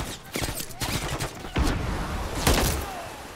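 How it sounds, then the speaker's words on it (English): Enemy gunfire in the Modern Warfare III campaign: several heavy, booming shots and bursts sound at irregular intervals, dense and close, with a rumbling battle wash between them. "There's enemy fire."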